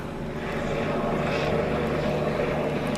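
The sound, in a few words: helicopter flying overhead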